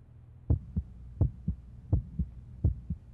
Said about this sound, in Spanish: el estetoscopio me ayuda a escuchar tus latidos